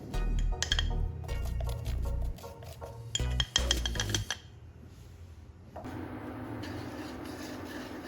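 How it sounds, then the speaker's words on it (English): Charcoal pieces are stirred in a pan over medium heat to dry-roast them, giving close, clattering scrapes and clinks that come in bursts and then settle into a softer steady rustle. "I'll stir continuously over medium heat to evaporate any remaining moisture."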